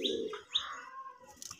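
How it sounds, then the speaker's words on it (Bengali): A pair of large Raj Golla pigeons, red and sky-blue, make short close chirping calls with a rising cooing note, followed by faint rustling and soft flutter. "দেখার মতো একজোড়া কবুতর"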